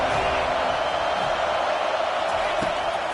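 Steady roar of a football stadium crowd while the home side has the opponent pinned deep in their own end, a dense, continuous wash of noise throughout, with commentary voices mixed in.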